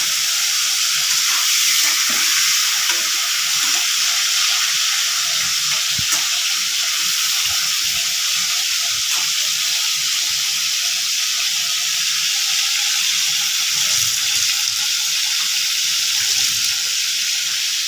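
Shrimp sizzle steadily in hot oil in a pan, a dense continuous hiss with small crackles that holds evenly loud and close throughout, with no talk.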